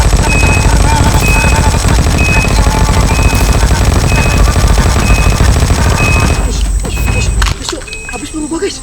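Sustained rapid automatic gunfire in a video game, dense and loud throughout, before cutting to sparser shots and noise near the end.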